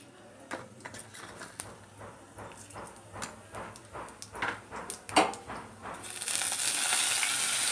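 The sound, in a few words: dried chillies, bay leaves and five-spice frying in hot oil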